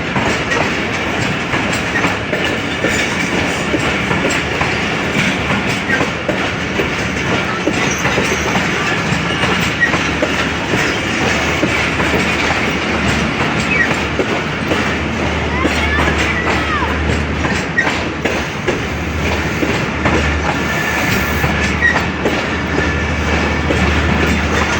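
A passenger train arriving at Wazirabad Junction rolls in with steady clattering wheels and a continuous rumble, with faint station crowd noise and a voice talking over it.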